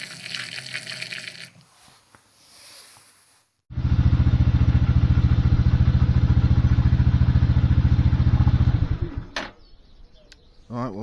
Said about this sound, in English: that seems to be quite happily idling at 1500